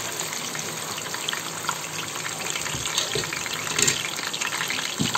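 Garlic paste and ginger paste sizzle in hot oil, a steady broadband hiss with brief crackles and bursts, loud and close, with no talking.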